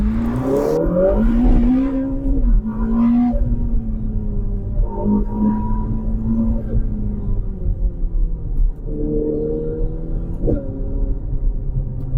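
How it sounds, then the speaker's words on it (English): A Ferrari SF90 XX Spider with its 4-litre V8 hybrid powertrain pulls hard in second gear, a loud rising engine note climbing through the revs, heard from inside the car with a steady rumbling undertone. "So let's just change down into second gear and give it the beats."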